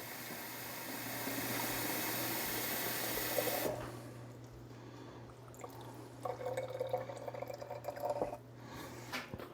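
Warm water poured into a container: a faint continuous hiss and trickle that stops abruptly partway, followed by quieter drips and small splashes, close by with no talking.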